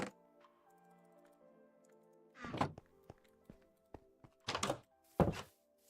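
Trapdoors are placed in the video game Minecraft, with a few sharp wooden thunks and clicks arriving in a quick irregular cluster over a quiet background, preceded by soft ticking.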